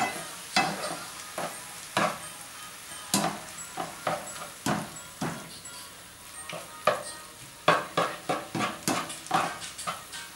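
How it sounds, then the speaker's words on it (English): Ground meat for stuffed peppers cooks in a pan, with a rhythmic run of close spatula scrapes and stirring clatters over a faint low sizzle, no voice. "We're halfway through cooking the meat."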